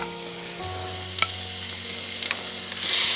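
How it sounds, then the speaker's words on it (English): Whole red onion sizzles in organic coconut oil in a non-stick pan for shrimp biryani, an even crackling hiss with a couple of stirring taps and faint tonal music beneath. "We will put at least 4 spoons of organic coconut oil in our non-stick pan."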